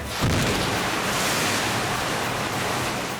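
A dump tank built from two stacked shipping containers releases about 3,000 gallons of water in one shot on a film set, producing a loud, sustained roaring surge that crashes in near the start and keeps rushing steadily.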